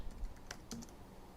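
Keys tap on a computer keyboard as a short word is typed, a handful of quick, light clicks close by but faint in a quiet room.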